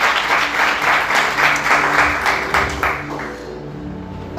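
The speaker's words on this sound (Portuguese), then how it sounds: "Você pode aplaudir Jesus com bastante alegria." Congregation applauding in a church service, a dense, steady wash of many hands clapping close by that stays loud for several seconds, then eases slightly near the end.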